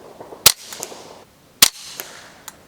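Two suppressed .22 rifle shots through a Rebel Silencers SOS-22 in 3-piece configuration, fired into dirt: sharp, close cracks about a second apart, each followed by a faint thud and short tail, alone without talk.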